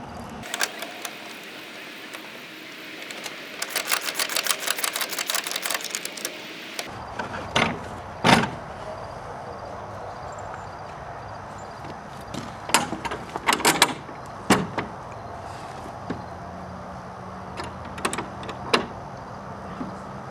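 Screw and bolt being driven into a fence gate hinge during installation: a stretch of rapid ratcheting mechanical whirring, then scattered sharp clicks and knocks at close range, with no voices.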